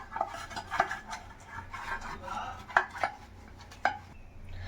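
Oil is spread around a metal cake pan, giving soft scraping and rubbing with scattered light metallic clinks and taps, close and quiet, with no talking.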